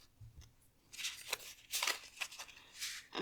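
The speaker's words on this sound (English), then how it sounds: "let's shuffle this one." Tarot cards being shuffled by hand during a card reading, several quick papery riffles and slides close up, with short pauses between the bursts.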